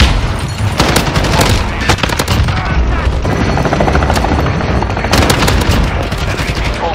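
Modern Warfare 2019 airstrike in PS5 gameplay: a loud, dense barrage of gunfire and heavy booms runs without pause, with sharp bursts standing out near the start and again toward the end, and faint game voice callouts mixed in.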